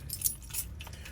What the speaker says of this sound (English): Need keys to start the truck.